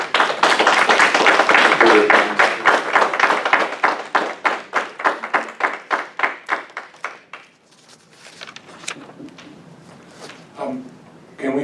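Audience at a planning commission meeting clapping in a burst of applause that settles into slower rhythmic claps and fades out, with a few scattered claps and murmuring afterward.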